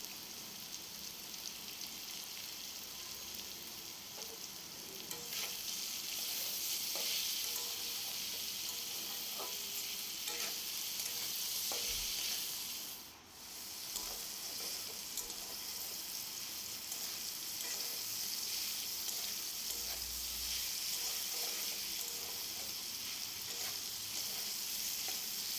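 Snake gourd fries with turmeric and salt in a pan, giving a continuous close hiss and crackle with occasional stirring scrapes throughout.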